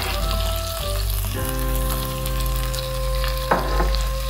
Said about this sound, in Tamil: இது வதங்கிட்டு இருக்கட்டும்